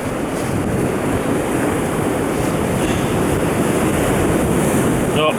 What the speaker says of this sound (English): it's a bit windy today, so you're going to bear with me